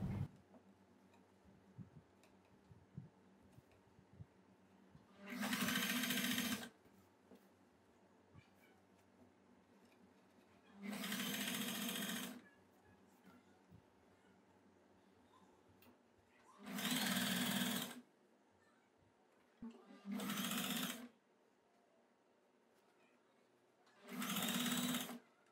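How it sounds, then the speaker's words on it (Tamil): A sewing machine lock-stitching a churidar neck runs in five loud, rapid bursts of a second or two each, separated by quiet gaps with soft handling noises. "தொடங்கும் போது ஒரு லாக் ஸ்டிச் போட்டு நம்ம தொடங்கிப்போம்."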